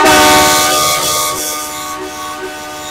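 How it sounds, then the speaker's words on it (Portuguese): A dual marine air horn fitted to a Hyundai HB20 car blasts a loud, harmonically rich tone that starts at full strength and slowly fades over about three seconds. "Instalamos aqui a buzina marítima dupla."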